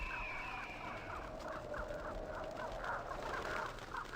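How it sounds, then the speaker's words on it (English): A flock of cawing crows summoned as an attack in the video game Vampire: Bloodlines, a quick run of repeated harsh calls over a low ambient bed, with no voices. "Crow strike."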